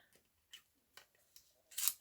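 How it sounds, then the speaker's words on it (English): A few quiet metallic snips and scrapes of scissors being worked in a sharpener, spaced apart, ending in one louder grinding rasp. "Put your scissors in here to sharpen them."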